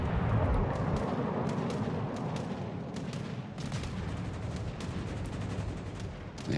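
Naval guns fire from the battleship Wyoming in World of Warships: Legends as heavy booming salvos and rumbling blasts roll over a dense, continuous battle din.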